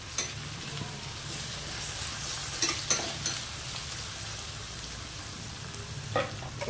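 Slit green chillies frying with onions in a pan for fish curry, a steady soft sizzle throughout with a few brief stirring scrapes and clinks, heard alone without talk.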